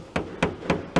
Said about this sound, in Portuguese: quando eu trabalho com um pino, não importa o que está batendo no pino, se é um martelo, se é uma madeira